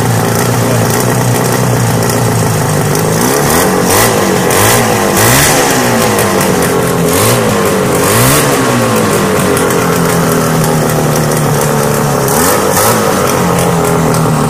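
Loud engine running with a bad exhaust leak, rough and blatting, with repeated revs that rise and fall in pitch over a steady ragged idle, close up.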